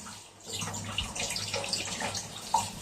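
Tap water runs steadily into a sink while a pan is washed up after stir-frying vegetables with chicken, a continuous splashing wash with small clinks, moderately close.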